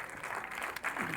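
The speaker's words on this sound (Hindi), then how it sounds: "एक बार खड़े होकर सभी सैनिकों के लिए तालियां" A standing audience at an Independence Day event applauds soldiers. The clapping is faint and distant, a steady wash of hand claps heard from afar.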